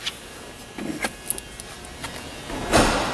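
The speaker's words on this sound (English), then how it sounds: "I'm going to actually have to unlock the doors with the key" A key unlocks the doors of a 2005 Jaguar XJ8 L, giving a few close, quiet metallic clicks and taps, then a louder mechanical clunk and a short rush near the end. No one talks.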